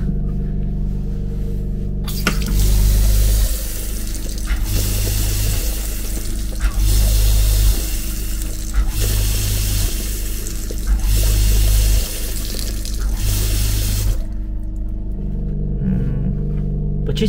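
Water runs from a tap on a Russian passenger train between Perm and Novorossiysk, a steady splashing stream that pulses in regular bursts over the constant rumble of the moving carriage.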